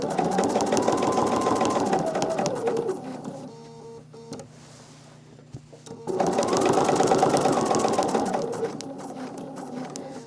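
Sewing machine quilting stitches across a quilt background, loud rapid mechanical needle bursts in two runs separated by a quieter pause, close by.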